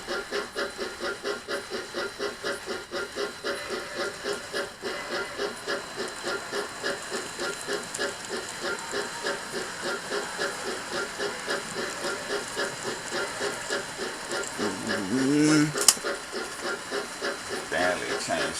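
Continuous rhythmic clatter of two N gauge model trains running on track, a steady ticking rumble with a brief louder squeal near the end.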